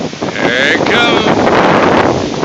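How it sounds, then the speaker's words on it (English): Strong wind gusts buffeting the microphone out on open water near a sailboat, a loud, continuous roar that surges and swells throughout with waves faintly beneath. "That's what I worry about when that wind gets like that."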